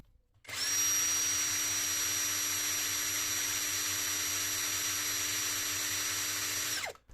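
A Hasston 16-volt cordless drill whirs at high RPM with a steady, loud high-pitched whine that starts abruptly, holds level for about six seconds, then winds down.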